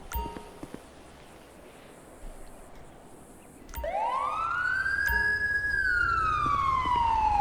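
A police car siren in GTA 5, rising suddenly and then sweeping in a long loud wail that rises and falls over a low engine rumble, with no voices.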